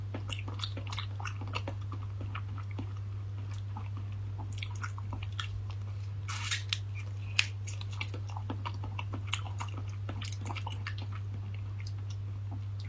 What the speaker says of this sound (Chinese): 果冻啊，一定给它嚼碎一点